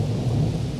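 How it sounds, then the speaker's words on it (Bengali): Thunder rumbles low and heavy under steady, dense rain in a brief stretch, with no voices. "ভীষণ বৃষ্টি হচ্ছে, বজ্রপাত হচ্ছে, বিজলি চমকাচ্ছে ঘন ঘন"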